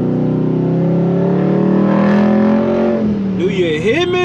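A Dodge Charger Scat Pack fitted with a wicker bill accelerates hard on a wet road, its engine rising in a loud, steady climb for about three seconds before backing off, with a brief whine afterward.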